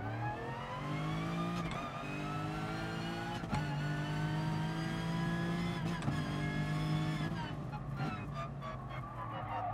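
Group 4 Lexus RC F race car in Gran Turismo Sport on Special Stage X, its engine screaming at high revs and climbing through several gears with brief dips at each shift, loud and up close.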